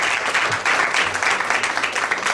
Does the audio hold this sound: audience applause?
yes